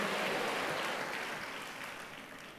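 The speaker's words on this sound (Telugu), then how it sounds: "చప్పట్లు వినబడుతున్నాయి" Church congregation clapping during a Telugu Sunday service, a steady wash of many hands at moderate distance that slowly fades over a couple of seconds.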